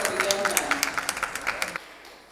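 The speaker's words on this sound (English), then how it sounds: "I think he deserves a round of applause" An audience claps briefly at a conference event, a short burst of scattered applause from a moderate distance that fades out after a couple of seconds.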